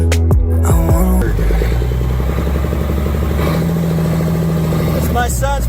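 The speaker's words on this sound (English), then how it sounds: "It's my son's first time driving the Deuce." A Deuce and a Half military truck drives with a steady, deep engine rumble and mechanical clatter that stays loud and close throughout, with voices and music mixed in.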